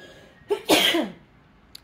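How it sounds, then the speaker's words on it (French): A single sneeze bursts out close by, a short sharp inhale followed by an explosive release lasting under a second, then quiet with a faint click afterward. "Pardon pour mon éternuement."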